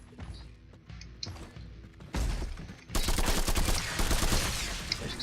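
Assault rifle fire in the retro shooter Project: RE-DOOM, a dense burst of rapid shots that grows louder and fuller partway through and then sustains steady automatic fire with no talking.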